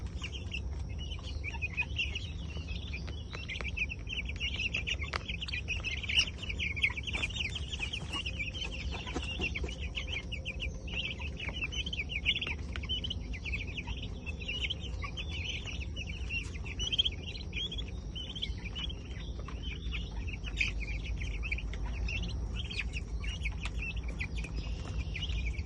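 Chickens cluck and chirp steadily in a coop, a dense, continuous flock chatter with occasional louder calls over a low background rumble.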